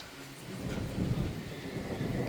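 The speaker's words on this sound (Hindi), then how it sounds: "पहाड़ों में तो अचानक बारिश हो जाती है कभी भी।" Sudden monsoon rain with rolling thunder in the Uttarakhand mountains, a steady broad wash of rainfall under low, swelling rumbles that build toward the middle and stay strong to the end, with no voices.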